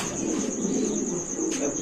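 Pigeon cooing at a pigeon seller's, a soft murmuring coo close by over a steady high-pitched background hum, with no voices.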